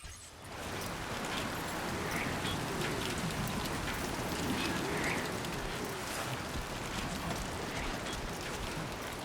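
Steady heavy rain pours down in the video game Death Stranding 2, a dense continuous hiss of drops on the ground that holds at an even level throughout with no talking.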